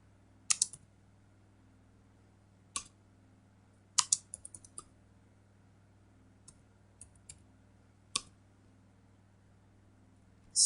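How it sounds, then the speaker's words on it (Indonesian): Keystrokes on a computer keyboard: sparse, sharp clicks come singly and in short clusters, with pauses between them, over a faint steady hum in a quiet room. "Di sini kita ketik var"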